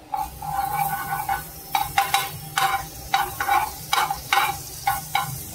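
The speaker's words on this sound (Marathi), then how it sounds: "पॅनवरती मी लावणार आहे थोडंसं अमूल बटर." Amul butter sizzles on a hot pan in short crackling spurts, with light stirring or scraping clicks in an irregular rhythm, close and fairly loud with no talking.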